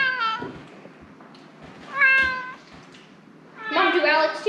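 A house cat meows three times, short whiny calls spaced out across the moment, close by and fairly clear against a quiet room.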